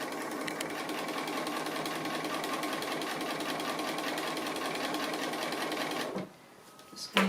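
A sewing machine stitches a dog-themed appliqué in dark thread, a loud, fast, continuous buzzing chatter that stops abruptly near the end, followed by a small clunk.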